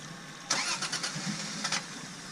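A Toyota FJ Cruiser with wet ignition coils cranks repeatedly, its starter churning in uneven pulses without catching, close by and moderately loud with no talking.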